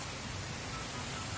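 Steady rain hisses evenly throughout, a dense wash of falling drops with a soft low rumble underneath and no voices.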